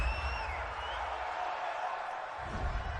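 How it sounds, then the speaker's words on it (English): A home crowd at a Chicago Bears versus Detroit Lions football game roars steadily in approval of a penalty call, a broad, continuous stadium swell of cheering that holds throughout without clear breaks. "This home crowd, they're happy with that call."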